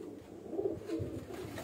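Domestic pigeons on a house rooftop coo in a low, steady murmur, the soft rolling calls close and continuous through the short stretch.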